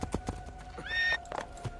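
A horse in the Assassin's Creed II video game clip-clops on hard ground, then lets out a rising neigh, close and moderately loud, with hoofbeats continuing around the whinny.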